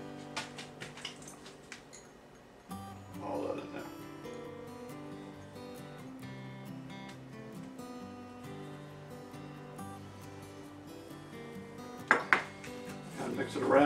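A spoon stirs venison roast, onions, vegetables and chopped garlic in a crock pot, giving scraping, clinking pot and utensil sounds throughout, quiet and close, with a few sharper knocks near the end.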